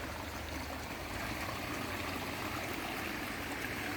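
A year-round stream runs beside a cardamom, pepper and nutmeg plot in Idukki, a steady, close rushing flow of water without pause.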